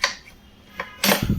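Metal spoons clink as they are handled and counted in a furnished apartment kitchen, a light tap early, a small knock midway, then a louder cluster of clattering near the end.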